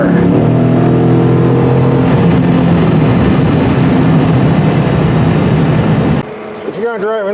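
A 2023 Dodge Challenger 392 V8 revs hard and pulls under full acceleration, a loud, close engine roar building steadily, then cutting off abruptly as a voice speaks.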